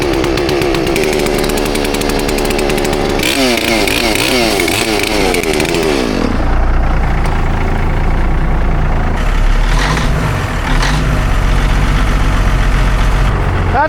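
A Caterpillar diesel engine in a 1980 K-Whopper truck runs at fast idle, loud and close. Its churning rumble shifts in pitch early on, then settles into a steady heavy drone.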